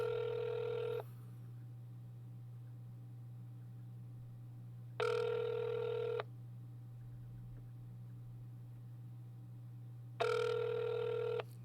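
A telephone rings on an outgoing call that goes unanswered, three evenly spaced ring bursts of about a second each over a steady low hum, moderately loud with no talking.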